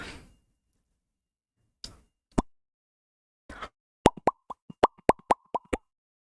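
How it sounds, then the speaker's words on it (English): A cartoonish pop sound effect from a Twitch redeem fires as a quick run of about ten sharp, bright pops after a few scattered soft clicks, heard close and clean with no talking. "my viewers always ask for this pop sound, which is kind of cute"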